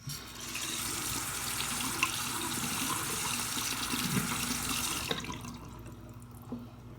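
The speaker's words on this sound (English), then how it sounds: "You want to turn on water, then you want to wash this out." A tap runs steadily into a sink while vape parts are rinsed beneath it, a close, even rush of water that cuts off abruptly near the end, leaving a few faint drips and handling noises.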